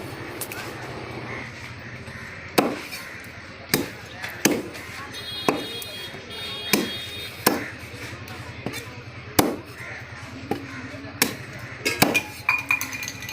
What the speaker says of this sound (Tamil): நல்ல சின்ன சின்ன பீஸாக வந்து கட் பண்ணுறாங்க பாருங்கள்.